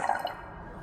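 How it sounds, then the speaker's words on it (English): Distilled water washings being poured into a glass volumetric flask, a brief, soft splash and trickle that fades quickly to quiet. "add this washing into this volumetric flask"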